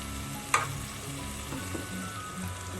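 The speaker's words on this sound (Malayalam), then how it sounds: "എല്ലാം ഒന്ന് ചെറിയ ഫ്ലെയിമിലൊന്ന് വഴലട്ടെ" Ingredients for a green-pepper sardine curry sauté gently in a pan over a low flame, giving a steady soft sizzle with a brief stirring clink near the start.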